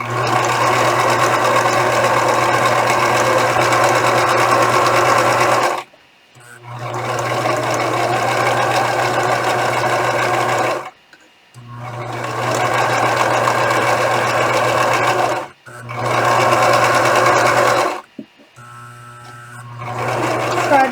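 Sewing machine stitching the pieces of a stuffed animal, running in four steady bursts of rapid mechanical chatter with brief stops between them, loud and close.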